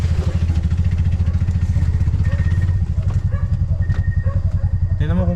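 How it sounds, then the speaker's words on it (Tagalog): A car engine strains and labours with its handbrake still on, pulsing in a fast, steady throb close by, while voices talk over it near the end. "Pinipilit mo yung makina na naka-handbrake."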